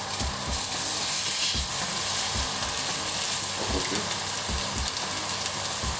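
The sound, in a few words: searing stuffed eggplant halves in fat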